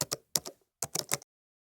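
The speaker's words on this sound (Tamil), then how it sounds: "டேட் அப்படின்னு சொல்லிட்டு நான் டைப் பண்றேன்." Several quick clusters of taps on a computer keyboard, close and crisp, come in short bursts separated by brief pauses before falling silent.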